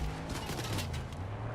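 Rapid bursts of gunfire in the Fortnite video game, a dense fusillade of shots filling the whole moment at steady loudness, with engine-like rumble running underneath.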